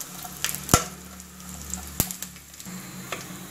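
Faint, steady sizzle of raisins frying in a pan of hot fat for payasam, with a couple of sharp clicks of a utensil against the pan and no talking.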